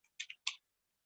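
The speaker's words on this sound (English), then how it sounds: "I'm just typing in electricity not used, just as a description" A few sharp, close clicks from a computer keyboard, about three or four quick keystrokes in a short burst followed by silence.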